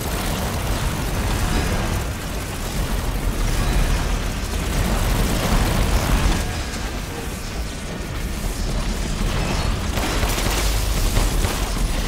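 A pistol in a video game fires in rapid, dense bursts, a loud continuous barrage of shots that runs for the whole stretch with little pause.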